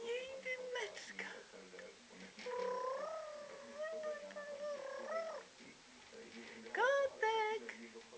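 A cat meows repeatedly indoors, a few drawn-out, wavering mews with pauses between them, close and clear, while someone speaks softly to it in between.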